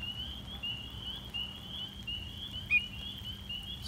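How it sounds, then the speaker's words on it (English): Fowler's toads call in a New Jersey spring breeding habitat as a faint, steady, nasal trill that repeats in long stretches over low background noise. "Just spotted the first Fowler's toads of the year."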